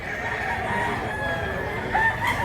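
A large rooster crows loudly and close by, its drawn-out call rising and falling, with faint farmyard clucking in the background.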